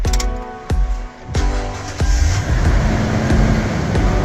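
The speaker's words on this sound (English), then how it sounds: "Now let's start the car." A Toyota Tundra V8 with a faulty air conditioner cranks in a few sharp bursts, then catches and settles into a loud, rumbling idle close to the listener.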